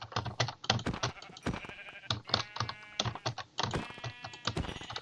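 Sheep in the video game Minecraft bleating repeatedly amid a busy rapid clatter resembling keyboard typing, the calls and clicks overlapping continuously with no speech.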